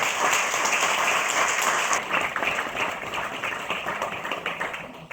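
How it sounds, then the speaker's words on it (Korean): A hall audience at a Guri city council ceremony marking Local Autonomy and Balanced Development Day breaks into steady, loud applause for a visiting professor, dense clapping that holds strong and then thins slightly toward the end. "권선필 교수님을 큰 박수로 맞이해 주시기 바랍니다."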